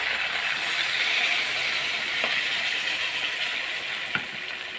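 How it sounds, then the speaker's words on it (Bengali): Water goes into a hot pan of chilli paneer masala after the spices are fried, setting off a loud, continuous sizzling hiss close by, with a couple of faint clicks near the end. "এবার দিয়ে দিলাম আমি একটু জল"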